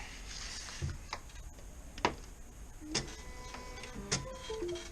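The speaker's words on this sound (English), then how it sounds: "push this pad that we're putting this on in and out of the machine several times to actually cut all this logo" A vinyl cutting machine cuts a logo for a heat-press shirt, producing faint, close mechanical clicks, ticks and short whirring motor moves at irregular intervals against a quiet background.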